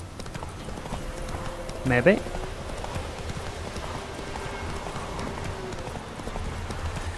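Steady rhythmic horse hoofbeats clop along in The Witcher 3: Wild Hunt under someone talking, with a brief louder burst of sound in the middle.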